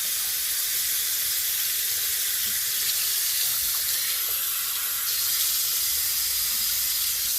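Running water hissing steadily from a tap as conditioning mask is rinsed from a child's dry, frizzy, damaged hair, a continuous close wash with no talk.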